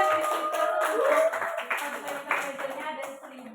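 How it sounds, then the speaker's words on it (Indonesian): Short burst of people clapping in an office meeting, a small group's claps close and fairly loud, with chatter and a voice going on alongside. "tepuk tangan dulu buat Rofi karena final di"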